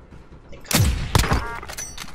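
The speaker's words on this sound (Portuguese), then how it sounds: "os tiros de sniper" Sniper rifle shots in the video game Call of Duty: Warzone crack out twice in quick succession, sharp and booming over a low, muffled game background.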